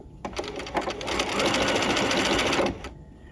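A sewing machine stitching a narrow rolled hem with pearl cotton at a short 1.5 stitch length runs with a fast, even mechanical whir for about two seconds, close and loud, then stops.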